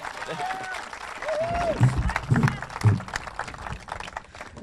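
At an outdoor groundbreaking for the Loveland Center, scattered applause for Jim Woods rises unevenly amid crowd murmur, with a few voices and heavier bumps over the clapping.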